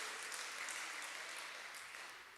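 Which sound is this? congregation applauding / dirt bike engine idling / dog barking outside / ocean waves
congregation applauding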